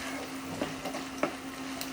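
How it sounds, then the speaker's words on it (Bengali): Ginger-garlic paste frying in a pan for homestyle mutton aloo kosha: a steady soft sizzle with a few faint stirring clicks, heard alone. "আদা রসুন বাটাটাকে এর মধ্যে একটু ভাজা ভাজা করে নেব"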